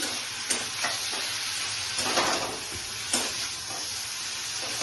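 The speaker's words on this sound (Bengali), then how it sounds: "এভাবে এখন ঢেঁড়সগুলোকে দিয়ে দিলাম।" Okra (bhindi) frying in a pan for a bhindi paneer curry, a steady bright sizzle with a few stirring scrapes and small pops, close and continuous with no talking.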